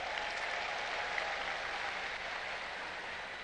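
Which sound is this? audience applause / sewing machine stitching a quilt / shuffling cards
audience applause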